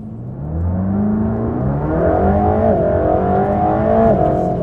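A Mercedes-AMG GT3 race car accelerates hard on a circuit, its engine note climbing steadily through gears with brief dips at shifts, loud and close from onboard, no talking.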